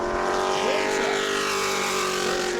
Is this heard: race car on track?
yes